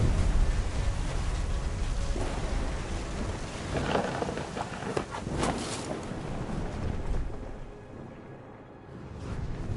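Thunder and heavy rain from a storm in the video game What Remains of Edith Finch: a dense, steady downpour with deep rolling thunder swelling midway, then easing toward the end.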